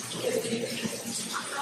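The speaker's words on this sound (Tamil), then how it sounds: "ஏன் தண்ணி அதே மாதிரி கொட்டிக்கிட்டு இருக்கு" Water pouring steadily inside the Dan Yr Ogof caves in the UK, a continuous rushing splash that fills the space with a diffuse, echoing wash, close and constant throughout.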